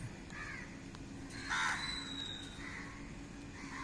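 Several crow caws spaced a second or so apart, moderately distant, over a steady hiss of rain.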